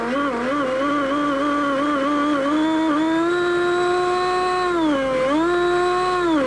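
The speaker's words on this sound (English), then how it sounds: "You can hear that's a very, very smooth engine, very, very well balanced unit." A model jet turbine on a 10.5-pound fighter model at a jet rally whines steadily and loudly, its high harmonic tone dipping and rising a couple of times as the engine speed shifts.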